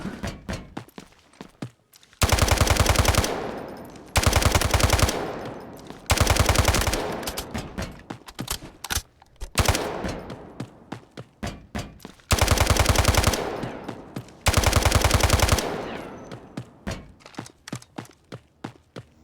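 Gunfire in the Free Fire Hot Zone mobile game: loud, close automatic bursts lasting about a second each, repeated several times with quieter single shots and thumps between them and no voice.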